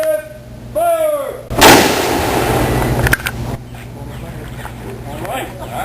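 A historic firearm fired in a living-history demonstration at Jamestown, a single loud booming blast that rolls off into a long fading rumble, preceded by a person shouting commands.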